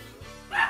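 A puppy gives a single short, high yip at the end of a quiet moment, on its own.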